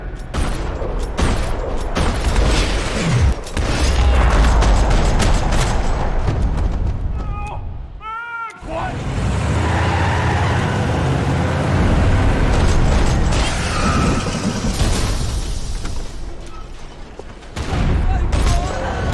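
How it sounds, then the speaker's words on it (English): Dense, rapid gunfire rattles almost nonstop with booming blasts mixed in, a loud chaotic firefight in a parking lot in the video game Max Payne 3 that briefly drops out partway before resuming. "Another parking lot rattling with gunfire."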